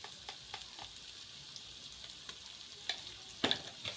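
Chicken masala fries quietly in a pan, a faint steady sizzle with scattered light clicks and scrapes of stirring toward the end.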